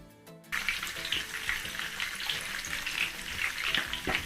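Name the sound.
akara frying and sizzling in hot oil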